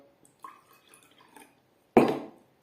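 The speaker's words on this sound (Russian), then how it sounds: "Короче, чем меньше в стакане воды, тем выше звук." Glasses holding different amounts of water are tapped, giving a few faint, light clinks followed by one sudden loud glassy clatter near the end, close by with no talking.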